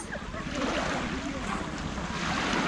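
Sea waves at Pissa cove wash steadily ashore, a continuous broadband surf roar mixed with wind buffeting the microphone, loud and close without pause.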